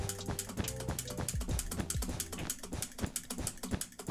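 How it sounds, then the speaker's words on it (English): Rapid keyboard and mouse clicking during Minecraft speed bridging, a fast, steady rhythmic stream of close, crisp clicks with a groove-like pattern and no talking. "so you can hear your clicks on your keyboard and your mouse"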